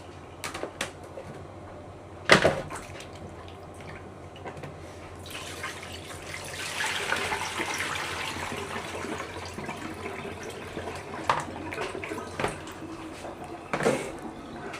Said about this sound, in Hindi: बस अभी मैं इनको धो रहा हूँ।